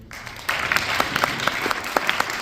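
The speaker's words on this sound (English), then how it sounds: "please give a round of applause to Ms. Shauna Witt." Audience applause for a speaker being introduced at a talk event, a dense steady wash of clapping that swells after a brief quieter start and carries on evenly to the end.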